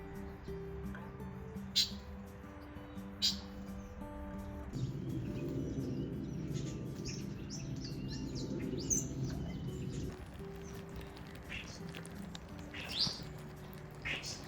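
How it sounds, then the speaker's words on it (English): Birds calling and chirping outdoors near an open cooking fire, short scattered chirps and a soft coo over a steady low background hum, with brief voices nearby. "check these birds out, see if we can see any interesting creatures"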